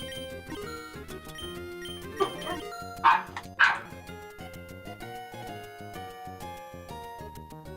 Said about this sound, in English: Sorry if you guys hear any barking in the background.